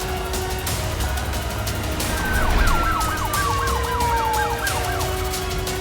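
An ambulance siren wails in a rapid rising-and-falling pattern over low road rumble, its pitch sliding down as it moves away before fading out.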